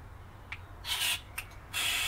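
Brake cleaner sprays at a brake master cylinder in short, faint hissing bursts, one longer blast and a final sustained spray, with no talking.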